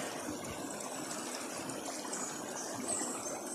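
Water flows steadily from a spring, a constant broad rushing trickle heard close up, even in level throughout with no speech over it.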